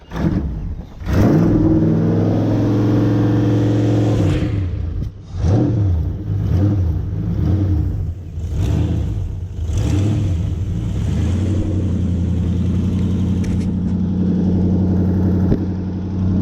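A Toyota Hilux LN106 bush truck fitted with a 1UZFE V8 with exhaust leaks cranks and fires up, then revs repeatedly in loud close bursts before settling into a rough, steady idle.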